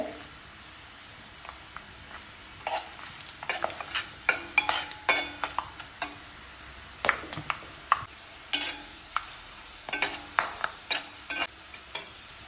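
Cloves are dropped into about 100 ml of hot oil and stirred, producing a soft, continuous sizzle broken by frequent scraping and clinking strokes of a spoon against the pan in an irregular rhythm.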